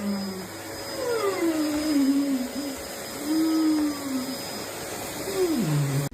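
A vacuum cleaner runs steadily with a constant whine and hum, while a dog whines and yowls over it in long sliding cries; no one speaks.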